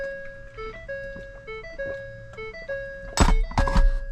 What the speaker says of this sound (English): Did you forget you're a brand new Ford? You're not supposed to make that chime.